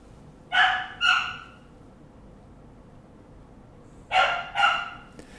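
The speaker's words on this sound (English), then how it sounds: "Sorry about the dog." A dog barks indoors in two pairs of sharp, moderately loud barks, one pair early and another near the end, with quiet room tone between and no talking.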